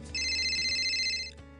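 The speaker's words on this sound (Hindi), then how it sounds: "एक कॉल आता है।" An electronic phone ringtone for an incoming call plays a bright, steady melodic tone for about a second, loud and close, then stops abruptly, with no talking over it.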